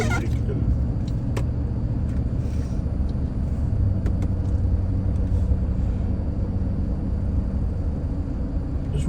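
A car cruising on a smooth road through new suburban developments in Houston, Texas: a steady, even low engine and tire rumble throughout, with a voice talking over it.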